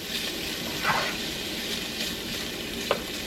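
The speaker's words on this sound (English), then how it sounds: "We're gonna go ahead and add the bacon and the ham in there." Bacon and ham fry in a pan with a soft, steady sizzle and a couple of light stirring clicks, close and fairly quiet.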